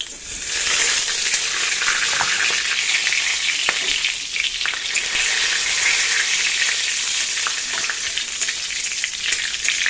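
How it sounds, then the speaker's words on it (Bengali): Cumin seeds, bay leaves and dried chillies fry in hot oil, a bright, continuous hissing sizzle that swells up after a quiet first moment and stays close and steady, with faint crackles and no talking. "এখানে জিরে, তেজপাতা, শুকনো লঙ্কা দিয়ে দিলাম।"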